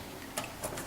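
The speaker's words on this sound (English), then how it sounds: "we come in here with our trusty T10 screwdriver" Short clicking ticks of a T10 screwdriver twisting out black case screws on an Xbox 360 Type E console, with a few faint, evenly spaced metallic clicks over quiet room tone.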